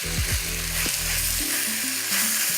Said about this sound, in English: With the cod pieces, just gently put them into the wok.